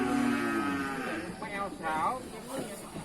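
Cattle and buffalo lowing at a livestock market in northern Thailand, a few drawn-out moos close by over a busy background with no speech.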